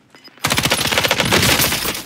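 Rapid automatic gunfire from a first-person shooter video game, a dense loud burst of shots starting after a brief quiet moment and continuing steadily to the end.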